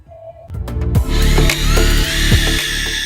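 A power drill drives screws into wooden garden furniture parts during a restoration, with a few short taps and then loud, close motor whirring in bursts.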